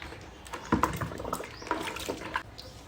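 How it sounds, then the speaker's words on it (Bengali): A conch shell lowered into a bowl of water mixed with detergent powder makes a few close, soft splashes and sloshes, followed by light drips and trickles, with no speech. "এবার শঙ্খটাকে আমি এই জলের মধ্যে ডুবিয়ে দেব।"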